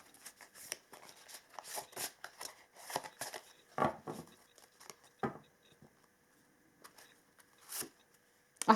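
Oracle cards of a Yule edition deck are shuffled and pulled by hand, giving soft, irregular riffling and slapping bursts, close and quiet with pauses between.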